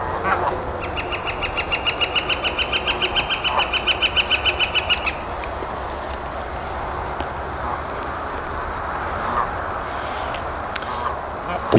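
Geese honking close by in a fast, regular series of loud calls for about four seconds, then fading into outdoor ambience with a few softer scattered honks; a gravid goose and a gander stand ready to fly off.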